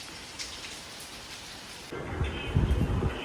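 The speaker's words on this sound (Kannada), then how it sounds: "ನೋಡಿ ಮಳೆ ಶುರುವಾಯಿತು" Steady rainy-season rain falls, soft at first and then heavier and louder, with a denser patter and low rumbling thuds toward the end.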